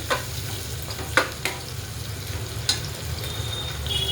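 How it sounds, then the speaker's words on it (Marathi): Chopped onion frying in hot oil with cumin seeds, mustard seeds and curry leaves, a steady close sizzle broken by a few sharp stirring scrapes of a spoon in the pan. "हा कांदा चिरलेले 2 टाकून घेऊया. एकजीव करूया तेलामध्ये आणि जिरे मोहरी कढीपत्त्यामध्ये."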